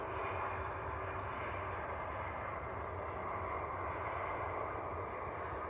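An 11-year-old Airbus A320 arrives at Manchester Airport from Heathrow, its broad steady engine roar filling the air at moderate distance without a break, and no one speaking.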